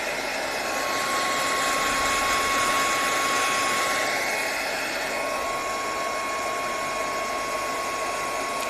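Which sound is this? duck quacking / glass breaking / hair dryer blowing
hair dryer blowing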